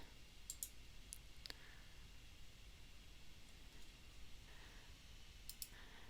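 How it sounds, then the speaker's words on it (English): A computer mouse clicks a few times, short sharp ticks in small clusters over a faint steady hiss in a quiet room. "I'm going to click next"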